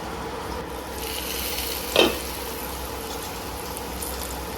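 Stuffed bitter melon cooking in a covered pan, a soft continuous sizzle with one brief louder crackle midway, heard alone and fairly faint.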